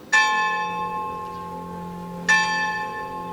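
A school clock bell rings twice, each stroke a sharp metallic clang that blooms into a long ringing tone, with the second strike about two seconds after the first. No talk is heard.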